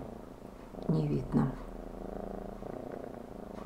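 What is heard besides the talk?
cat purring while sleeping on someone's hands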